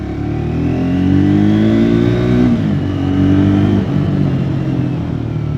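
A Triumph Scrambler 400X motorcycle accelerates with a loud, close engine note that climbs in pitch, drops at a gear change and rises again.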